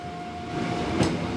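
A departing train rumbles steadily with a faint tonal whine and a brief clatter on a foggy mountain in Hakone, Japan, a continuous rail noise with no voices.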